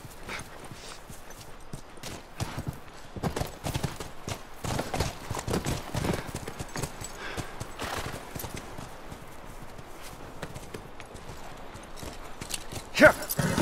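Horse hooves clip-clop steadily through a scene in The Last of Us Remastered, with occasional snorts and a whinny, at moderate level alongside game ambience and some talk.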